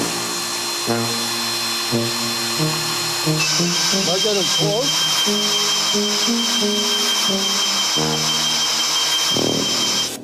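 A high whining power drill with a slender bit runs continuously, boring into wood, while someone speaks briefly over it.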